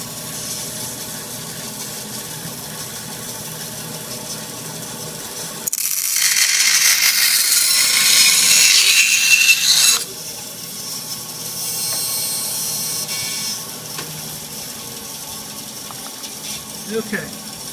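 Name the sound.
bandsaw cutting Kydex plastic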